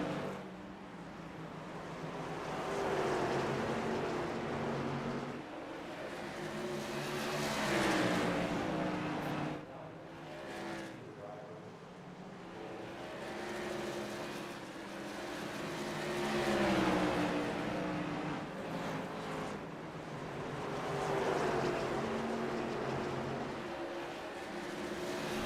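Whelen Modified race cars lapping at North Wilkesboro, a steady roar of engines swelling and fading as cars pass, with a commentator talking over the sound throughout.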